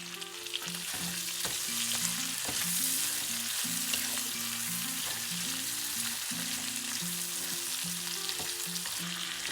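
Shrimp stir-frying in a hot wok for a spicy Szechuan dish, a loud continuous sizzle with scraping stirs throughout and background music underneath.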